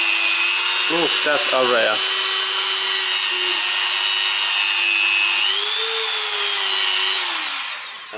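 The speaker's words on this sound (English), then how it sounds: "there is my Dremel, and I start it in here. And then I start to polish." A Dremel polishing a stuck Toyota Corolla brake caliper gives a high, steady electric whine that wavers briefly as the tool bites the metal, then rises in pitch and winds down at the end. A voice speaks briefly early on.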